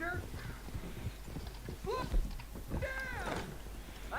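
Horse hooves clip-clop in Red Dead Redemption 2, a few uneven close steps mixed with game voices speaking over them.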